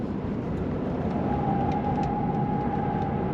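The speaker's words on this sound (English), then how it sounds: "A little bit of tire noise" Steady broadband road and tire roar from inside a moving 2024 Tesla Model 3 Performance, continuous and fairly loud, with a faint whine running through it.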